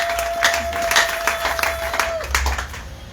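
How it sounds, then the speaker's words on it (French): A church congregation claps and cheers in a loud, rhythmic burst of applause while a preacher's voice sounds over it. "Acclamez très fort pour le Seigneur Jésus."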